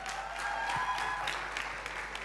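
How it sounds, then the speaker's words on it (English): Audience at a forum on displacement applauding a speaker, a soft, even wash of clapping from a hall crowd, moderately distant and sustained for a couple of seconds. "Let's give him a round of applause."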